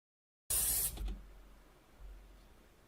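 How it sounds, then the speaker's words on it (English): A short, sharp hiss of Pam aerosol cooking spray onto food, then a faint rattle and low rustle as the spray stops, with quiet room noise after. "Did she spray Pam on the food?"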